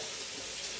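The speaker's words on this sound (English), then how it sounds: "I'm gonna wash my hands again." Tap water running steadily into a kitchen sink during hand washing, a brief, soft, even hiss.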